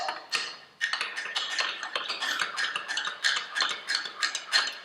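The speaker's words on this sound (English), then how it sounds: "Now you want to stir the matcha really well" A spoon clinks and taps rapidly against the side of a cup while stirring a matcha drink, a steady run of light, bright ticks close by after a couple of opening taps.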